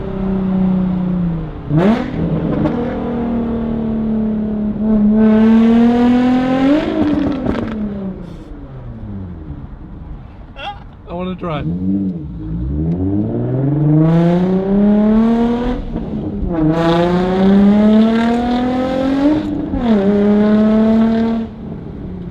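Car with a Tomei Ti titanium exhaust revving hard through repeated rising pulls, loud and close, with rasping top-end notes and brief lifts between pulls, and a few words spoken briefly.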